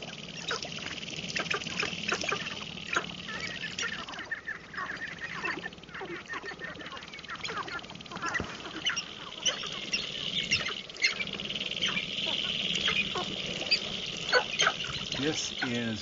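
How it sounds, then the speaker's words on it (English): Sharp-tailed grouse on a lek before sunup, stomping their feet in rapid rattling bursts among clucks and calls from many birds, steady and moderately distant throughout. "both also stomp their feet. And in the case of sharp-tailed grouse, that's 20 times a second."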